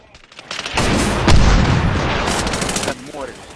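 A mortar round explodes in the online multiplayer shooter Medal of Honor: Warfighter. It sounds as a loud, heavy boom with a sustained rumbling roar amid crackling gunfire, and the blast tails off near the end.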